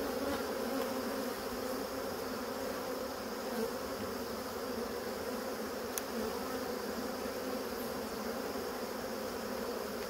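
Many bees hum around an open beehive in a dense, continuous drone that stays steady and close for the whole stretch, with no voices.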